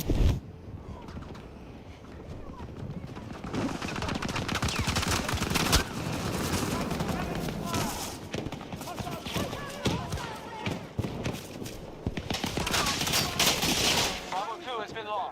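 Sustained gunfire rattles through a Battlefield 2042 match, with dense automatic bursts and thumping impacts filling the whole stretch, loud and close, while voices call out over the combat.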